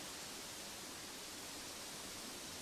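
Waterfall in the video game Uru Complete Chronicles, a constant, even rush of falling water, steady and fairly soft with no other sounds.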